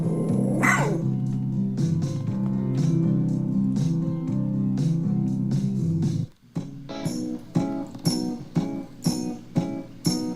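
Dog at a dog daycare, a low growling rumble followed by a rapid series of loud, close barks in a regular rhythm.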